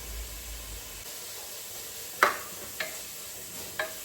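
Crushed small onions sizzle steadily in a hot pan as they brown and caramelise for a chicken biryani, with a few sharp stirring clacks against the pan near the end.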